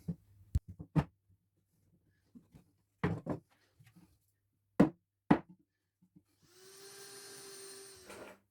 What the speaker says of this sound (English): I've just put the door in the position it's going and I'm tapping it gently until it rests against the hinges